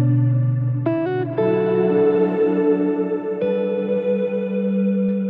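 Electric guitar notes played through a Meris Mercury X reverb pedal ring out through heavy delay and reverb, each phrase trailing long echoing repeats that wash together into a sustained shimmering tail.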